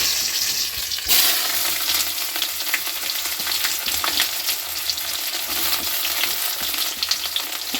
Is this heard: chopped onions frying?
yes